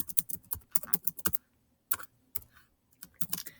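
Fingers tap quickly at a computer keyboard in short bursts of close, crisp clicks, with brief pauses between the runs of keystrokes.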